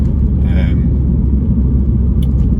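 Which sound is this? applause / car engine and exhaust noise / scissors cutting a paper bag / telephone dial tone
car engine and exhaust noise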